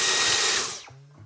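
A Dyson V10 Cyclone cordless vacuum cleaner runs with a loud, steady high whine, then winds down as the motor switches off, leaving a low hum.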